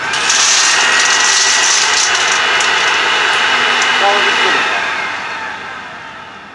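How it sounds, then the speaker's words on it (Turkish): A pneumatic sampling probe's engine runs at a steady drone, fairly loud and close, then gradually fades toward the end. "biraz da motoru çalıştır, içi boşalsın"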